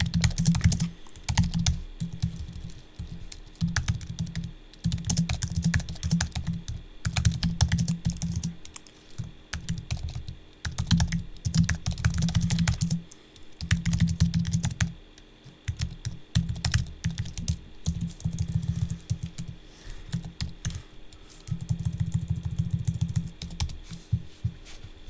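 Rapid typing on a computer keyboard, clicking in uneven bursts with short pauses throughout, close and fairly loud, with no voices.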